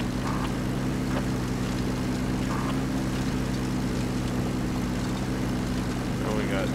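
Helicopters fly overhead in a military video game, a steady loud rotor and engine drone filling the whole stretch with faint scattered battle noises on top.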